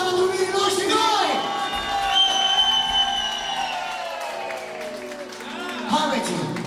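Wedding guests cheer and applaud the newlyweds at a Romanian wedding party, crowd noise swelling under a sustained, loud voice with a burst of clapping and shouts near the end.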